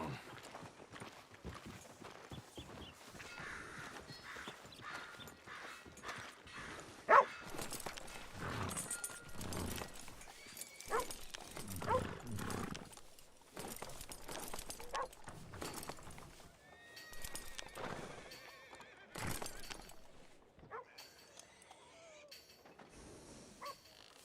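Hooves clip-clop on hard ground amid shuffling and clattering, with a horse's whinny partway through, in the video game Red Dead Redemption 2; voices talk intermittently over the scene.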